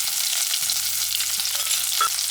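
Chopped onion and salt frying in a pan as the base for a fish curry gravy, a bright continuous sizzle with a few stirring scrapes, close and steady, with no voices.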